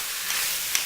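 Shrimp stir frying in a hot pan give a steady, close sizzle and hiss with a couple of small crackles, no voices heard.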